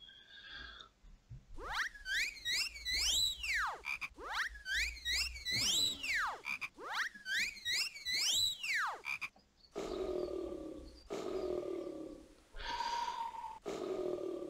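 Several rounds of descending, rubbery croaks from a frog in the Discworld PC video game come in quick bursts, loud and close, and a noisy rushing stretch follows.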